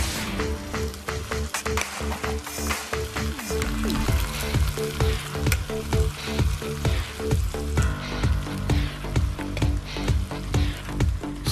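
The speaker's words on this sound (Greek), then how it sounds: "Συμπληρώνω και λίγο λάδι εδώ για να σοτάρουμε το κρέας ωραία" Beef pieces and thinly sliced onions sauté in oil over high heat for goulash, a loud, dense crackling sizzle that continues throughout, close and steady, with brief faint background sounds but no clear speech.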